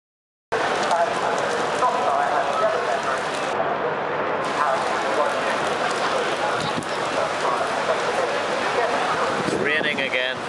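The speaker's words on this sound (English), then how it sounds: "It's raining again." Rain falling at Silverstone, a steady dense hiss of drops on surfaces that runs throughout at a fairly loud level, with faint voices underneath.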